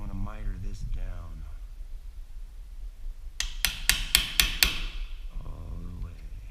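A hammer taps a chisel against a wooden door frame in a quick burst of five or six sharp, ringing strikes, close by, with someone talking before and after.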